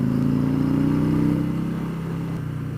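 Harley-Davidson motorcycle engine pulling hard as the rider accelerates onto a highway, a steady loud low rumble with harmonic drone that eases slightly near the end, no voices.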